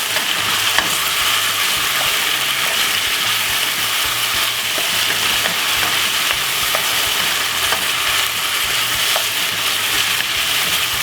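Jamaican pepper mackerel being stirred in a pot over heat, a dense steady sizzle close by with faint repeated scraping ticks throughout.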